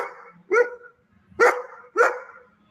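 A dog barks, picked up by a home security camera. There are three or four sharp barks, spaced apart, fairly faint and distant-sounding against a quiet background.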